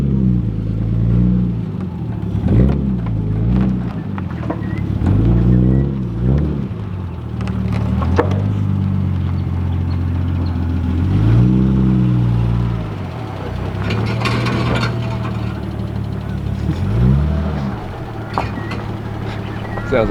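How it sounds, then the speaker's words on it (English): Nissan Skyline R31 engine and exhaust rumbling while driving, a low throaty drone that rises and falls with repeated revs, close and steady throughout, with people talking over it. "Sounds like the exhaust."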